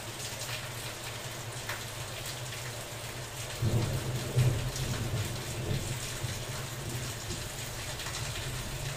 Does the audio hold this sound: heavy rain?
yes